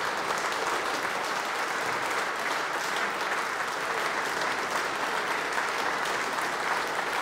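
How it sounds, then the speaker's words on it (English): Polite applause from the crowd at an Ashes cricket Test match as a batsman walks through the long room, steady and continuous clapping at moderate distance, with no voices over it. "Just polite applause as he goes through the long room."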